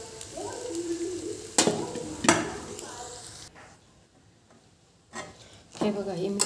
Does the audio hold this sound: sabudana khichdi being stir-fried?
yes